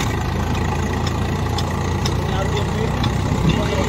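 A tractor engine runs steadily in second gear at about 1500 RPM, a continuous mid-low drone held at even loudness throughout, with background activity around it.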